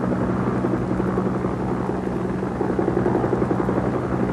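A Vietnamese air force helicopter flies north over the South China Sea toward the Mekong delta, its rotor producing a loud, steady, rhythmic thudding drone with a constant engine hum, heard close and unbroken throughout.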